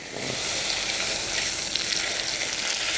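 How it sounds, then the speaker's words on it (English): Butter sizzles and crackles steadily in a hot pan, a continuous bright hiss heard up close with no talking. "Oh, nice and sizzle. Pan is nice and hot."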